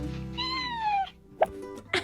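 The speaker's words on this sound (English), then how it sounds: "She's got a very big voice for a very small cat." A small cat lets out a long, loud meow indoors in a kitchen, followed by a couple of short, sharper sounds near the end.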